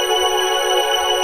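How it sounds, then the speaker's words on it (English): A solo synth string drones steadily on a single note over sustained pads in a classic 90s drum and bass track, with a bright, evenly held tone and no percussion. "this is just that solo string playing over top of the pads"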